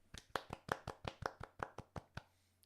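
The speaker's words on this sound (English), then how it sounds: "That's clapping, by the way, not masturbating. That's clapping." Hands clap about a dozen times in a quick, even rhythm, sharp and close, then stop.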